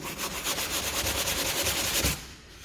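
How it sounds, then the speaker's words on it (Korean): Sandpaper rubbing a wooden dowel plug flush with the surrounding wood, in quick rhythmic back-and-forth strokes, close and moderately quiet, stopping near the end. "이 상태에서 샌딩을 하면 되겠습니다"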